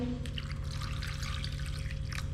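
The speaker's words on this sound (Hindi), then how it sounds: "तो अब मैं इसके अंदर पानी शामिल कर देती हूँ" Water poured over tamarind and dried plums in a bowl for chutney, a steady close trickling and dripping of liquid throughout, alone.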